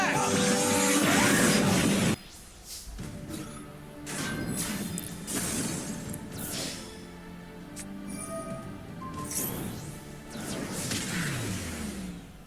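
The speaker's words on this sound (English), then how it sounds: "Now Silent Swordsman destroy his mage with Silent Sword Slash Attack!" In a Yu-Gi-Oh game, Silent Swordsman's Silent Sword Slash plays out as a loud opening blast, then a string of swooshing slashes and heavy impact hits that swell and fade.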